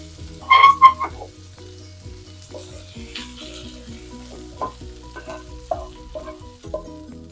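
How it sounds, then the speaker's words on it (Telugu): Bottle gourd and sorrel leaves stirred into a pan of already-fried coriander and seasonings, with a brief burst of frying sizzle and metal scraping near the start, then steady soft scrapes and clinks of a spoon against the pan. "ఇప్పుడు ఇందులో తీసి కలిపేసుకుందాం సొరకాయ గోంగూర."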